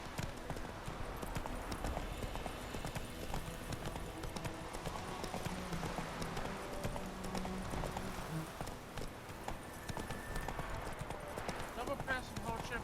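Hooves of Roach, Geralt's horse in The Witcher 3 video game, clip-clop steadily and close throughout, mixed with game music and ambience while someone talks over it.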